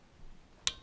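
A torque wrench set to 14 foot-pounds gives a single sharp metallic click while tightening a dirt bike engine bolt, brief and close against a quiet background.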